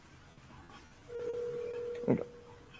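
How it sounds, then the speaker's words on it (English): A telephone ringing on a live webcast line: a steady electronic tone holds for about a second, then a brief louder burst, fairly faint against room noise. "we're hitting a phone ringing on our end here on the actual live line"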